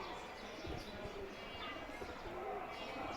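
Pet pigeons in a Bangladeshi loft coo in low, soft, murmuring calls, faint and continuous beneath background noise.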